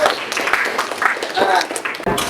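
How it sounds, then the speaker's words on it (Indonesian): Classroom applause for a student named Bella, a short burst of scattered hand clapping from a group of students, close and lively, with voices mixed in. "tepuk tangan buat Bella"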